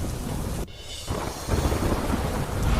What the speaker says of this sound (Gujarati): માણાવદરના આંબલિયા ગામમાં ધોધમાર વરસાદ